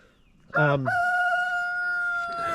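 A rooster crows nearby, a loud rising call with clear harmonic tones, trailing into a long sustained note against a steady background hum.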